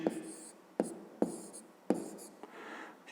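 A pen taps and scratches out numbers for a subtraction problem, a few distinct strokes and sharp touches on the writing surface, close and clear, with a voice speaking briefly alongside.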